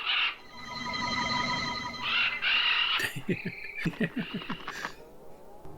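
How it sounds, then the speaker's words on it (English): Electronic-sounding bird calls in a Space: 1999 scene where a shape-shifting alien turns into a bird: sustained warbling tones that give way to a rapid series of sharp chirps and squawks. "Be the bird, Maya. Be the bird."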